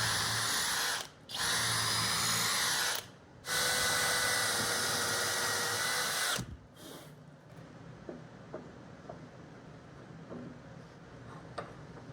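A power drill bores holes into a DIY workbench in loud, sustained bursts with two short pauses, then stops, leaving faint ticking and handling noises.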